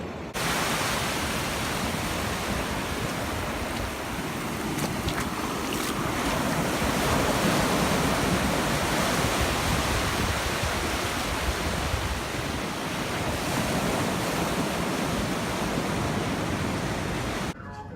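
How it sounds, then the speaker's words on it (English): Ocean surf rolls onto a Florida beach during a tropical storm, a continuous loud wash of breaking waves mixed with wind buffeting the microphone, steady throughout. "It's been so long since I played in the ocean, and I'm so excited."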